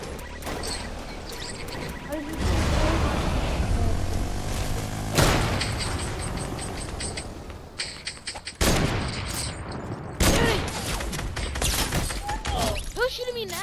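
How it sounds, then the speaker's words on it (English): Gunfire in the video game Fortnite, with repeated loud broadband shots and bursts that come in several clusters across the stretch, some sharp and close, over game ambience and music. "Who's shooting me now, man?"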